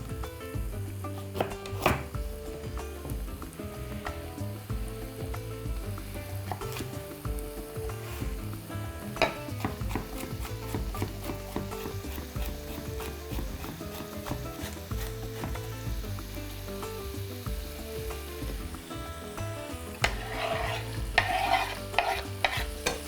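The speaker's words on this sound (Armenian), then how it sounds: "Հենց սկսի յուղը հալվել, խոզապուխտի կավելացնենք մանր կտրատած գազար։" Ham and finely chopped carrot fry in melting oil in a pan, with a steady close sizzle broken by repeated scraping and clinking of a utensil stirring, and no voices.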